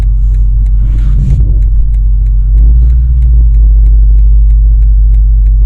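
A BMW M8 Competition engine idles with a steady low rumble during automatic parking, swelling slightly partway through as the car creeps along, with faint mechanical clicks on top.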